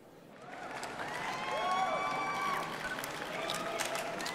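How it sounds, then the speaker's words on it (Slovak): An audience claps after a children's poem recital, steady applause in a hall with a few whistle-like tones on top and no talk. "Sálou sa ozval potlesk."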